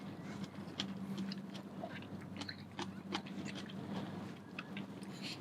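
Close, crisp biting and chewing of crunchy bok choy in a bowl of salmon sinigang soup, a steady run of wet crunches and mouth sounds with no talking.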